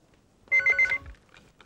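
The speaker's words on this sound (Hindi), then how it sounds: "और टेलीफोन उठाओ।" A telephone rings in an office scene of a Hindi TV serial, a short burst of bright electronic ring pulses at moderate level, followed by a faint low voice afterward.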